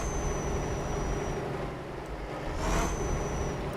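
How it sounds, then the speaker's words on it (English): A Volvo truck engine revs in the Euro Truck Simulator 2 game, giving a steady low rumble with a mild swell in intensity near the end, accompanied by a faint high whine. "Let's rev the truck."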